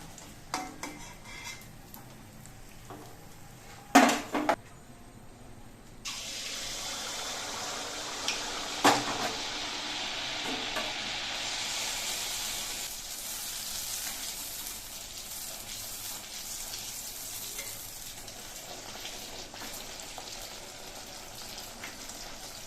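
Steady oil sizzling of malpua frying fills the clip, a dense hiss with a few sharp clinks of utensils near the start.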